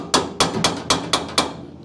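Six sharp metallic hammer taps on a Chevy COE truck floor in a steady, evenly spaced rhythm, close and clear with short ringing decays.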